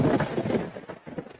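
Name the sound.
thunderstorm sound effect in generator radio ad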